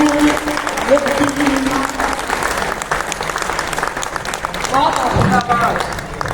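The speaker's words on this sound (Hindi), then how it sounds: "तुम्हारी तालियां हिम्मत बढ़ाती है।" Loud, dense applause from an audience at a Hindi poetry recital, sustained clapping throughout with some voices briefly rising over it near the end.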